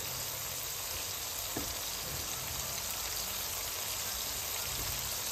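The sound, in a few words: tomatoes added to sizzling fried onions and chickpeas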